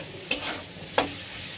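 A pan of potatoes and vegetables with salt and turmeric sizzles steadily up close, with two sharp spatula scrapes about half a second apart.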